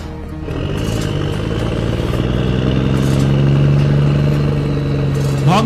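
A cartoon motorbike drones steadily at close range as a fox makes its escape, its engine humming evenly throughout with a brief rising whine at the end.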